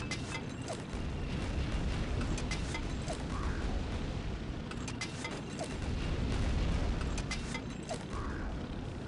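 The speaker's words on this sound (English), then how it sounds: "How many grenades was that? Like, fucking 20?" Rapid grenade explosions in Quake 2, a dense continuous barrage of booming blasts and crackling impacts lasting several seconds, loud and close with no talk.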